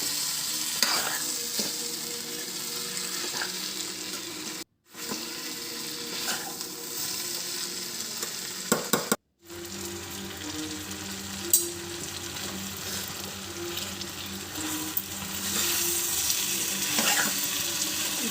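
Mixed vegetable curry frying in a pan, a steady close sizzle with repeated stirring scrapes, briefly cut off twice, no talk.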